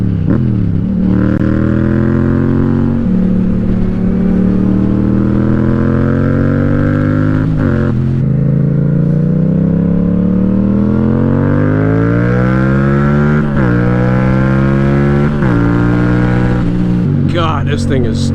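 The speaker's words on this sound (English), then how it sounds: "So this is my first time on an MT-07. So this has a full system. This thing sounds insane." Yamaha MT-07 motorcycle with a full exhaust system revs hard and close, its engine note climbing and dropping through repeated gear pulls with brief shift breaks, loud and continuous throughout.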